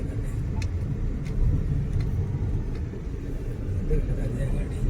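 A car engine rumbles low and steady while the vehicle is being parked near a hilltop temple, a continuous close idle with faint background noise throughout.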